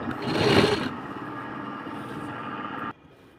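A sewing machine stitches a folded strip on a princess-cut blouse, whirring in a loud burst, then running at a steadier hum before stopping abruptly near the end.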